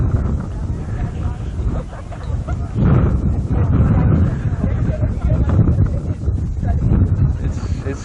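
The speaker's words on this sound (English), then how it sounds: "It's chilly and windy" Wind buffets the microphone at a chilly outdoor game between Crude and Centaurs, a steady low roar with gusts swelling and easing, while a commentator talks over it.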